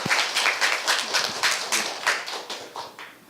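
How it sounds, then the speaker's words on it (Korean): An audience claps for a student stepping up at a Korean global citizenship education talk concert forum, a brisk, rhythmic burst of close, fairly loud applause with distinct individual claps pulsing evenly throughout. "큰 박수 한번 부탁드리겠습니다"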